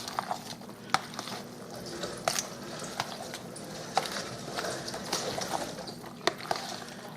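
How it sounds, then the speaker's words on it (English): A spoon stirs liquid smoke into a pot of baked beans, quiet scraping and sloshing with a few sharp clicks against the pot, close and soft. "This is liquid smoke. Alright, I'm going to stir that in."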